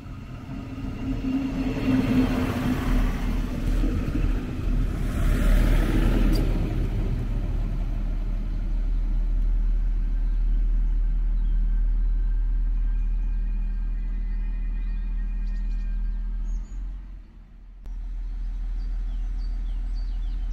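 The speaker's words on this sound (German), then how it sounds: "Einfahrt RB68 von Saarbrücken Hauptbahnhof mit einer Baureihe" A class 642 diesel railcar on the RB68 regional service from Saarbrücken Hauptbahnhof pulls into the station at Hassel (Saar) with a loud low engine rumble that gradually fades and settles into a quieter steady idle.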